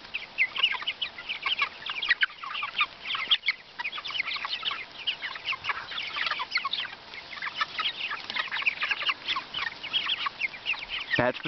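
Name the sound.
chickens eating and tearing up pasture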